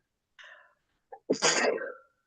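One close, sharp sneeze follows a quick intake of breath in an otherwise quiet room.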